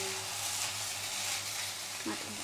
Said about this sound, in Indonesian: Bentar, kita aduk sampai rata ya.